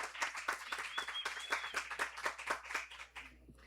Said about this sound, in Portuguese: Vamos dar uma salva de palmas para a Luciene.